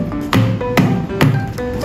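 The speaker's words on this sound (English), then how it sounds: "Gently tap the molds on the counter to release any air bubbles." Three sharp taps of baking molds filled with sweet potato oatmeal cake batter on a counter, evenly spaced about half a second apart, close by and fairly loud, with a low ringing after each hit.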